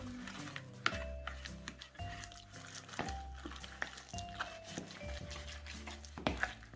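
Chicken pieces being stirred and mixed with a red marinade in a bowl for restaurant-style Chicken 65, giving a repeated wet squelching and scraping with sharp utensil knocks roughly once a second, close and fairly quiet, no talking.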